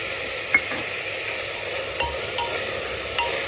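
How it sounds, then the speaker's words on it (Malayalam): Chopped onion and tomato sauté in a hot pan for a Sunday-special beef curry, with a steady sizzle and a few sharp spoon-scrape clicks as it is stirred, close and alone. "ഒന്ന് നല്ലപോലെ വഴന്ന് വരണം ഇപ്പൊ തന്നെ കളർ മാറി തുടങ്ങിയിട്ടുണ്ട്"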